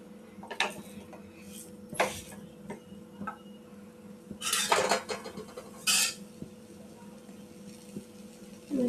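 A date seed mixture is mashed in a pan over a low flame, giving scattered metallic clinks and scraping taps of a utensil against the pan at an irregular pace, close and fairly quiet.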